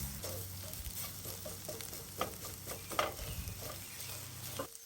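A spatula scrapes and stirs food sticking in a Lodge carbon steel pan over a camp stove, soft scraping strokes over a steady low sizzle, with a couple of sharper clinks.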